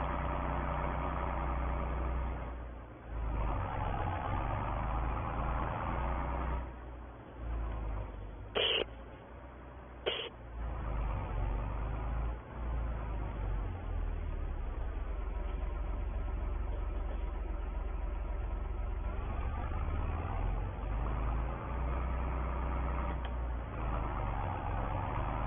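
A 135-horsepower farm tractor engine runs steadily with a low, continuous drone, with two short sharp noises breaking in briefly partway through.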